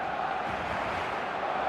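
A stadium crowd in the eFootball video game roars as a steady, dense wash of cheering, constant and fairly loud across the short stretch, with no clear individual voices.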